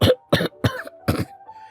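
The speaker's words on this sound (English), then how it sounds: "He coughs." Four short, harsh coughs in quick succession, close and loud, followed by a faint lingering tone as they die away.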